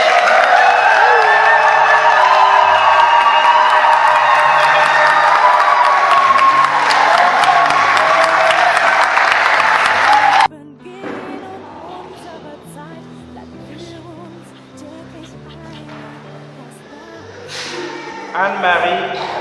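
Wedding guests applaud and cheer in a dense, loud burst of clapping and whoops for about ten seconds, then it cuts off abruptly and gives way to quieter room sound with voices and music.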